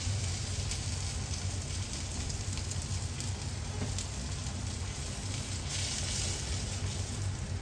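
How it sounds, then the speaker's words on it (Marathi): Vada fritters made from bharada batter frying in very hot oil, a steady, dense sizzle with crackling pops, close and continuous, with no voices. "आपल्याला जेवढ्या साईजचे हवेत त्या साईजचे करून तर कडकडीत तेलात टाकायचं"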